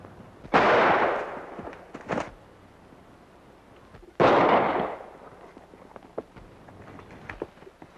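Gunshots in a western film ring out as two loud, sharp blasts about four seconds apart. Each one has a short echoing tail, and there is a smaller crack shortly after the first.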